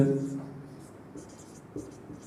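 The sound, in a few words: writing a geometry proof on the board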